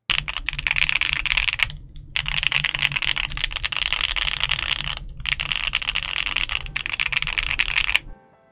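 Fast, clacky typing on a stock Monsgeek M1 V3 mechanical keyboard, close and continuous, with a few short pauses between bursts of keystrokes.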